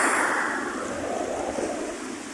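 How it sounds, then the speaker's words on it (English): Ocean waves rolling in beside a pier, a steady broadband wash of surf with some wind across the microphone, fairly loud and continuous, with no talking. "it looks very nice with the waves rolling in"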